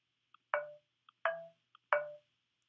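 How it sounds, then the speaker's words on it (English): Marimba voice in Chrome Music Lab Song Maker plays three separate mallet-like notes with quick attack and short ringing decay, evenly spaced, each preceded by a tiny soft tick, no voices. "Right now it's on marimba, which sounds like this."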